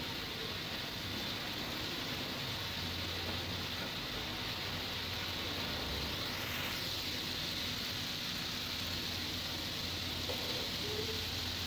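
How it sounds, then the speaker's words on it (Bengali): Spice paste sizzles steadily in a pan while being cooked down for a hotel-style dried loitta fish bhuna, a constant faint hiss with no talking. "মশলাটা যত কষিয়ে নেব শুটকি ভুনাটা খেতে ততটাই ভালো লাগবে"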